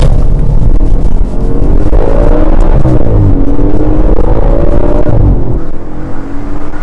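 An Audi RS4 B8 in dynamic mode accelerates hard, its engine note loud and close, rising in pitch through the revs before a shift and tailing off.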